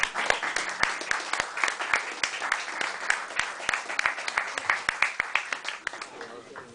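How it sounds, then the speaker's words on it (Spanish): Audience applause for poets at a Tuesday arts evening in a café, steady clapping from a crowd with sharp individual claps standing out, moderately loud and continuous throughout, with some voices mixed in. "un aplauso para ellos"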